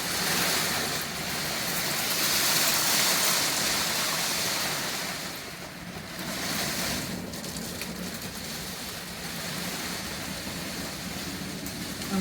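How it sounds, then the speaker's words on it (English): Heavy rain pours steadily onto a greenhouse, a dense, continuous hiss and patter that swells slightly early on and stays loud throughout, with no voices. "it really is raining quite hard now"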